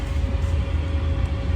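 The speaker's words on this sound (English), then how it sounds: "the loud noise you hear is the fan" A steady, loud cooling fan of an incinerator toilet whirring with a constant low hum, unbroken and close by.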